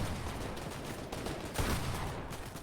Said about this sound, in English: Shots fired onto Siri, going to get taken down to about half of his health